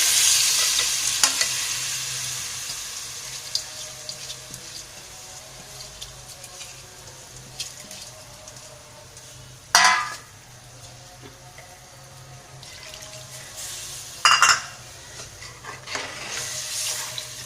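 Soaked rice goes into a pot of stock for pulao: a low simmering hiss with light stirring scrapes and two short splashy pours, no talking.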